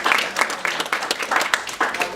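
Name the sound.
audience round of applause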